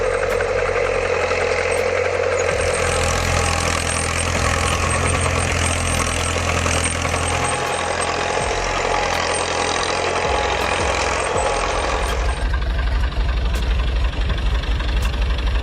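Fiat 455C crawler tractor engine runs steadily at a loud, continuous idle with a low rumbling throb and a faint knocking texture, the tone shifting slightly near the end.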